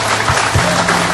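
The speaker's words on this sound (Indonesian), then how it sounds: "Berikan tepuk tangan buat semuanya." A studio audience applauds loudly and continuously, a dense wash of clapping filling the whole moment at close range.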